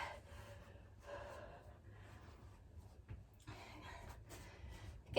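Heavy, ragged breathing after a full-body strength and conditioning workout: loud gasping inhales and snorting exhales repeat in uneven bursts, close to the microphone with no talk.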